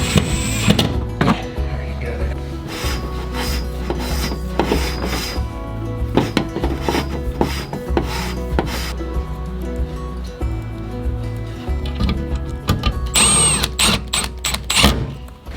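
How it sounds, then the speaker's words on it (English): A power drill drives a screw to fix a pipe in place during home outlet wiring work, with buzzing bursts, clatter and handling noise close by. "take the drill and screw the screw in to hold it in place"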